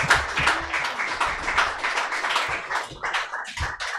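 An audience at a live football talk show for VfB Lübeck claps for an arriving guest, with scattered, uneven hand claps and a few sharper taps, moderately loud and thinning toward the end.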